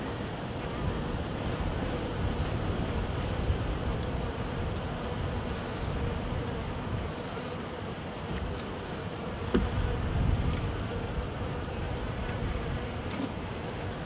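Honeybees hum steadily at an open hive during a UK beekeeping inspection, a dense, even drone that carries on throughout with no talk.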